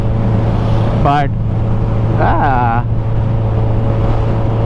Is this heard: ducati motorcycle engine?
yes